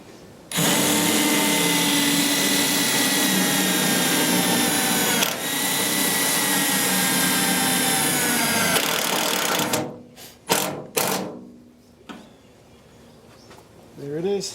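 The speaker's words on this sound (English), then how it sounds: "this is the only tool I have that I can get under here and drive the screws in" A power drill drives self-tapping screws under a MaxTrack install, whining steadily and loud for about nine seconds, then a few short bursts follow with pauses between them.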